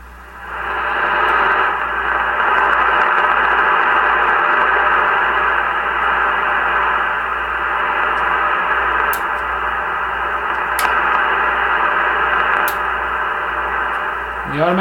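Static-laden receiver audio from a Henry Tempo One ham radio, a tube set, runs as a steady loud hiss and rumble with faint broadcast tones beneath, broken by a few brief clicks and a small tonal flutter near the end.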